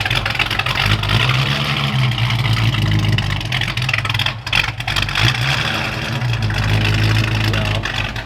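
A Ford Foxbody engine idles roughly on a cold start, a loud, steady, close rumble whose speed wavers unevenly throughout.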